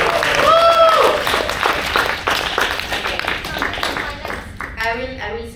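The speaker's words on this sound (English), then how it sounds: "Can we have a round of applause for Lucy?" An audience claps together in a room, dense applause that swells then fades over several seconds, with a voice and cheering mixed in near the start and talk resuming at the end.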